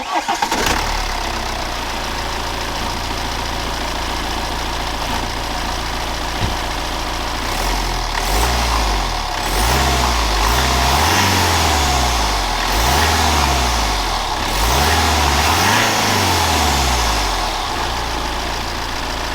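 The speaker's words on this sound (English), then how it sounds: "this is a start up and a few revs with the stock intake." A BMW E90 320d diesel engine with its stock intake cranks and fires, settles into a steady idle, then revs up and drops back several times in a row, loud and close with no talk over it.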